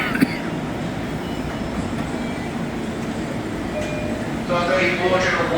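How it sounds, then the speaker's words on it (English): An LIRR M9 commuter train rumbles along the tracks with a steady rolling roar, rising louder near the end with some squealing tones, while people talk faintly over it. "That actually looks like an M9 set."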